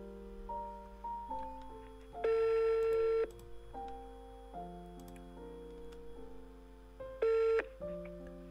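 A telephone redials after a dropped call: a string of DTMF keypad tones plays, followed by two longer steady beeps, clear and isolated against quiet line hiss.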